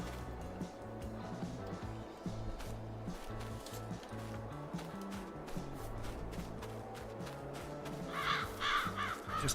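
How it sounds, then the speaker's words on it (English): Several crows caw repeatedly outdoors on a farm, in sharp, scattered calls over the low rumble of a running tractor engine, with a burst of calls near the end. "Just chased all the crows."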